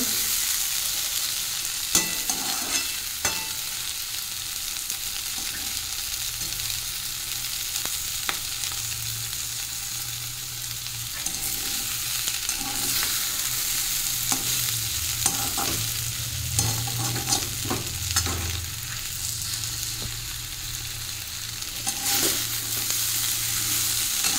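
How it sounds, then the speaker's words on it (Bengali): Okra and potato sauté in a pan, a soft continuous sizzle broken by repeated scraping and clinking as a spatula stirs them, close and steady without any talk. "তো এখানে ঢেঁড়স আলু কষাই করা হচ্ছে।"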